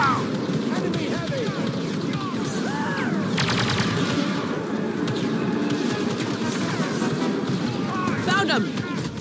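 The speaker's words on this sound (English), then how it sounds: "Stay here and lay down cover fire." Dense blaster gunfire and battle noise from the Star Wars Battlefront 2 campaign, continuous loud rattling bursts with whooshing effects over a constant rumble, with voices speaking amid the fighting.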